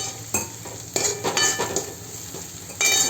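A utensil scrapes and clinks against a pan while salt, turmeric and coriander-cumin powder are mixed in for a sukat batata dish, giving irregular stirring strokes over a faint sizzle.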